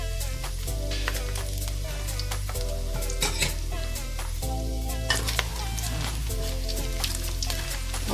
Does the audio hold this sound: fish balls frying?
yes